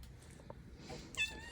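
A blue-eyed farm cat meows once, briefly and close, near the end over a quiet indoor background with soft low rumble.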